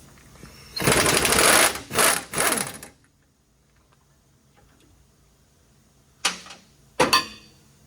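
Impact gun running off a 22 mm tie rod nut on a Ford F150, with a loud two-second rattling burst followed by quiet, then two shorter bursts near the end.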